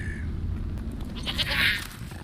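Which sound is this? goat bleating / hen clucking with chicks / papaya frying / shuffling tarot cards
goat bleating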